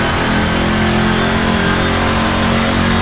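An RSS race car in Assetto Corsa pulls hard under full acceleration, its engine a steady, loud, dense roar that holds throughout with no break and no talk.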